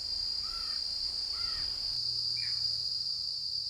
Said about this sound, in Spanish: Si no fuera por el incansable y repetitivo ruido de cigarras